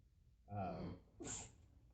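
A single close sneeze during a meeting: a sharp intake of breath followed by a bright, explosive burst, then quiet.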